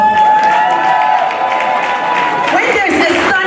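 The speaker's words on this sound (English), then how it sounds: "please, let's give round of applause." An awards-ceremony audience applauds and cheers loudly, a dense continuous wash of clapping with shouts rising toward the end.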